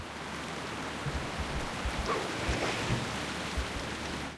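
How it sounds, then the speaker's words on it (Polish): Steady rain in the jungle of Stranglethorn Vale in World of Warcraft hisses evenly throughout, a dense wash of drops with a few soft low thumps beneath and no voices. "Deszczowo, deszczowo, ale fajnie, lubię takie klimaty."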